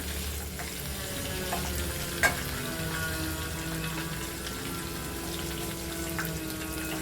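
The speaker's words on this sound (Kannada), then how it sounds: "ಸ್ವಲ್ಪ ಫ್ರೈ ಆಗಲಿ" Green chillies fry in a pan with a steady, continuous sizzle and bubbling hiss, fairly loud and close, with one brief sharp clink partway through and no talking.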